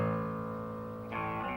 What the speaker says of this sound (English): Oh, listen to the distortion. It distorts at low volume.